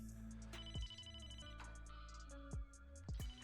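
Office telephone ringing in a film, a repeated electronic ring pattern heard fairly faintly beneath music with low booming hits, several rings spread across a few seconds and no speech.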